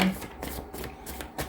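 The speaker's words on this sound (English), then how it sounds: "We will shuffle again and get 4 cards to clarify what the original 4 mean." A deck of tarot cards is shuffled up close, giving quick rhythmic riffling bursts and soft papery flutters, several in a row, with no talking.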